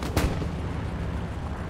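One heavy gunshot booms in Hell Let Loose, a World War II shooter set at El Alamein, followed by a low rumbling battlefield wash with no voices.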